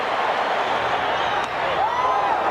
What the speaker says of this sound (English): This crowd will tell you what's happening.